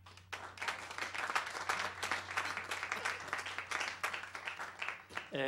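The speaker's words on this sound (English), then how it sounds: "a big round of applause for Rafael Ramos." Concert audience at a Berklee College of Music Latin music performance applauds and cheers after a band member is introduced, dense clapping throughout with a steady low hum underneath and some voices mixed in.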